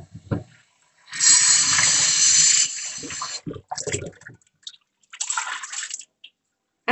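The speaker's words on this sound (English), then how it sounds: "Rinse it well in regular plain water." Water sloshes and splashes while a clay pot is rinsed in plain water, with a long burst of running water followed by shorter splashing spurts and brief quiet gaps. No one speaks.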